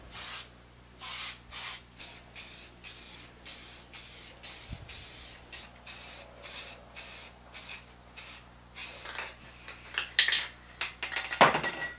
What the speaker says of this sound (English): now I can give it a coat of paint before doing the final assembly